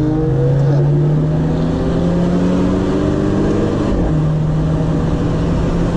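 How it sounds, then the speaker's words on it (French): Renault Clio R25 F1 Team limited-edition hot hatch engine heard loud and close from inside, a steady drone with rising and falling pitch through gear changes and a brief dip near the end, no voices. "ça craque surtout au niveau du passage de rapport, mais aussi en décélération quand tu lâches les gaz"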